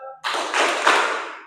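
A room of classroom students claps together in one short, loud, unified burst that swells and then fades, close and bright.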